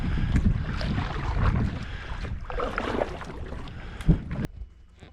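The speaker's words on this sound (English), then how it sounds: "Man, this boat's so easy to push along," A small boat pushed along by hand through shallow shoal water near shore, with sloshing water and wind buffeting the microphone, a loud knock near the end before it quiets.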